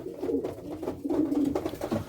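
Pigeons in an allotment loft coo near the listener in a low, rolling, repeated warble that swells and fades over a couple of seconds. No one talks.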